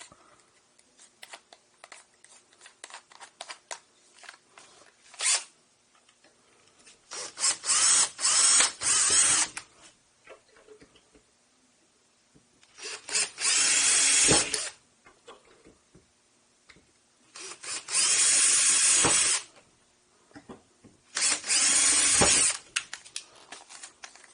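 Power drill driving screws while installing a cat door, several loud whirring bursts of a few seconds each separated by quiet gaps with small handling clicks, close by and with no talk.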